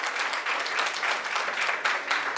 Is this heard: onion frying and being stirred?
no